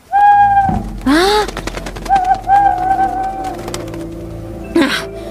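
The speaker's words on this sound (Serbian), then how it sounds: "To je obična sova." Cartoon owl hooting in a daytime hill setting, with two rising hoots and a few shorter calls ringing loud and close over a background of quiet music and effects.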